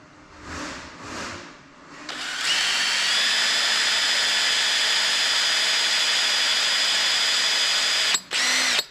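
Power drill whirs up to a steady high-pitched whine while boring into wood, running continuously for several seconds before briefly stopping and restarting.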